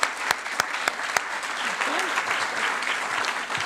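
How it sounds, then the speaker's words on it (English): Applause at a board meeting honouring a retirement: a few loud, spaced claps at first, then a full, steady round of clapping from the room that carries on to the end. "So just a round of applause for Robin's years of service and retirement."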